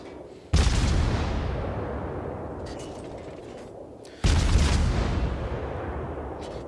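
Heavy naval gun salvos from a warship in World of Warships, two loud booming blasts a few seconds apart, each with a long rumbling decay.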